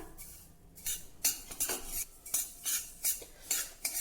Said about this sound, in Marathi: यामध्ये दोन टेबलस्पून पांढरे तीळ घालायचे आहे हे तीळ देखील व्यवस्थित भाजून घ्या